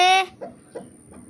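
A chicken lets out one sharp squawk, then gives two or three soft, low clucks close by.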